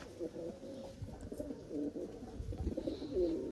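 Pigeons coo repeatedly in a loft of high-flyer pigeons, soft throaty rolling calls overlapping one another at close range, fairly steady throughout with no talking.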